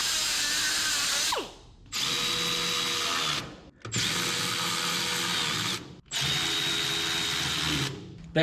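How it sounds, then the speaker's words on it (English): A carbide power tool grinds to enlarge a hole in a metal cover plate on a 1968 IH Travelall. Four long, loud, steady runs are split by brief pauses. "We gotta enlarge this hole so it can go back on there as our cover plate."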